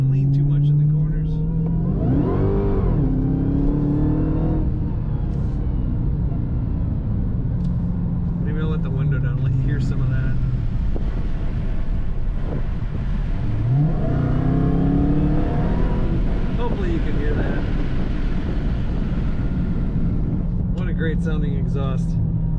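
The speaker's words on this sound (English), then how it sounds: "Very quiet ride except for that nice exhaust rumble when you get on the throttle." A 2021 Dodge Charger Hellcat Redeye Widebody rumbles through its exhaust on the move, with two strong throttle blips rising and falling over a constant deep engine drone and road noise.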